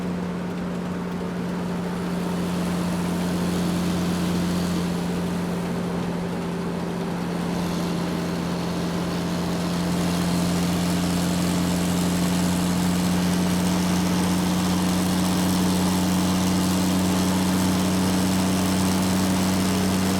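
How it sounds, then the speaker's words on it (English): An airport bus engine idles with a steady, continuous low hum and a constant droning tone that stays loud and even throughout, with no talking. "Airport bus."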